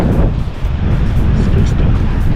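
Strong wind buffets the microphone on the Whitby coast, a loud, continuous low roar with no break throughout.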